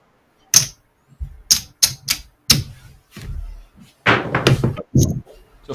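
Dice tumble and clatter across a craps table, making a series of sharp clacks and knocks in quick bursts, loud and close.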